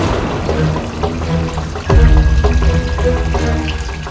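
Clean water rushing and pouring steadily into a house, a continuous splashing flow that grows fuller and louder partway through, with no talk.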